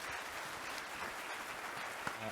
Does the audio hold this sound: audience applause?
yes